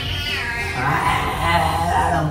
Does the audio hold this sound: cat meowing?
yes